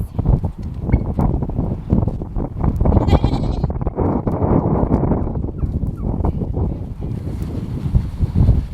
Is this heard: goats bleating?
yes